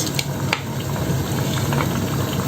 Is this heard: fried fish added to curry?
yes